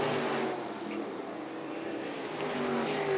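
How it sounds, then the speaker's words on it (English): Race cars lapping a speedway track make a continuous loud engine roar, a dense steady drone that dips slightly midway and swells again near the end, with no talking heard. "Through corner number 3 and 4, it is going to be Jaycox with the advantage on lap number 3."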